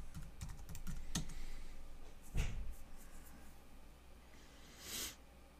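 A root password is typed on a computer keyboard in a short burst of quick close key clicks, followed by a couple of louder isolated presses and quiet pauses.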